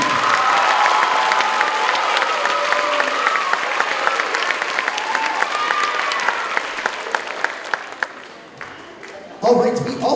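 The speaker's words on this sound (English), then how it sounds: "Please applaud for our silver medalists in Class C." Audience applause for silver-medal middle school band students at a school band concert: loud, sustained clapping from a crowd with some cheering, fading near the end before a brief burst of voices.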